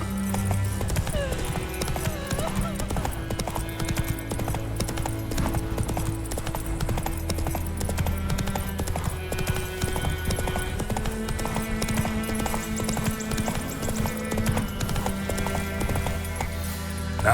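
Hooves of Roach, the horse in The Witcher 3: Wild Hunt, clip-clop in a steady rhythm for the whole stretch, moderately loud, under a continuous musical score.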